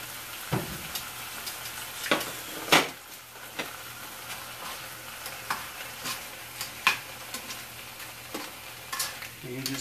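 Ham frying in a pan for eggs Benedict, a low steady sizzle broken by sharp clicks and scrapes of a utensil stirring and touching the pan at irregular intervals, fairly quiet with no talk.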